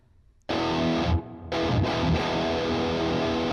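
Electric guitar through a Positive Grid BIAS X tone with reduced fuzz, tight distortion and subtle reverb plays sustained chords after a brief silence, with one short break, loud and alone.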